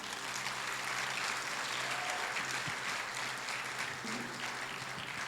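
A church congregation claps in praise, a soft, even wash of applause heard at a distance and fairly faint, steady throughout with a faint tonal hum underneath.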